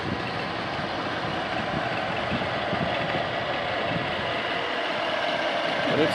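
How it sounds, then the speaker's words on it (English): A 1947 Ford F1 fenderless rat rod truck with dual exhaust idles steadily, a smooth, continuous low engine rumble held close and even throughout with no talk over it. "But it's a good smooth running truck."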